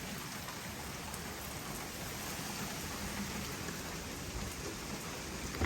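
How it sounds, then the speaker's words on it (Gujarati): Steady rain falls outdoors in London, a dense, even hiss of drops on surfaces that holds at a constant level throughout, with no voices. "આજે વરસાદ છે"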